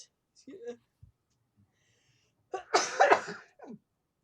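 A single sharp sneeze erupts near the end after a few soft breaths and small noises, close and fairly loud.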